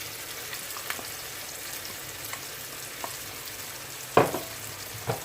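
Jamaican-style saltfish frying in a pan, a soft steady sizzle with a few sharp clinks and scrapes of stirring near the end.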